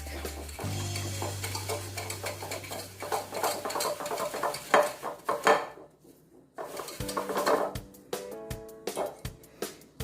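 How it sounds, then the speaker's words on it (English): Sugars being whisked in a bowl for banana bread, a steady near scraping and clinking of the whisk against the bowl with irregular taps, no voices. "both your sugars, give it a whisk"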